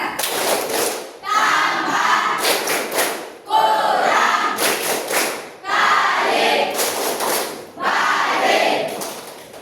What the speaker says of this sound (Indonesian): Lagi tepuk matematika.